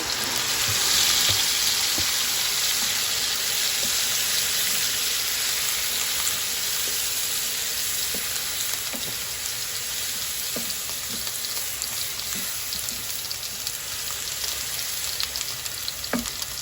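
Steady, loud sizzling of tomatoes frying in a pan, continuous crackle with occasional small pops and stirring clicks throughout.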